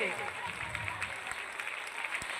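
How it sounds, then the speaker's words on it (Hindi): Audience applause welcoming a guest at a protest sit-in rally, a steady wash of clapping throughout, fairly loud, with voices mixed in underneath. "आप लोग तालियों से स्वागत करिएगा।"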